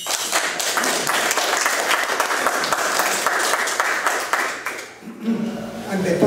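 An audience at a literary tribute to an Argentine poet breaks into sustained applause, dense close clapping that holds steady for several seconds, dips briefly, then picks up again.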